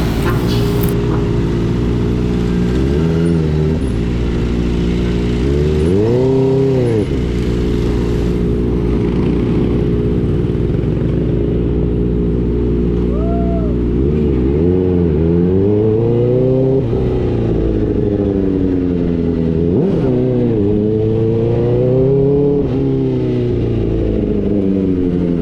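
A Kawasaki ZX4RR motorcycle engine drones loud and close while riding on a Dagupan City road, its pitch rising and falling through repeated revs and gear changes over the whole stretch.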